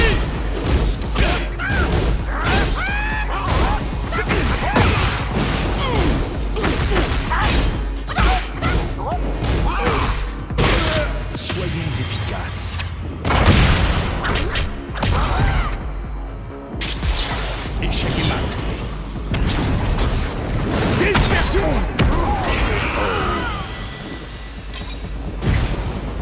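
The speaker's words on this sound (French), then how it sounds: "Explosion!" Explosions and crashing hits from Tekken 8 fighting game combat, a rapid dense string of booms, whacks and whooshes, loud and close, mixed with game voice shouts.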